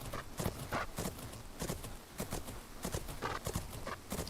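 Horse hooves cantering in a horse riding video game, quick rhythmic clip-clop beats in repeating groups of three, close and fairly loud.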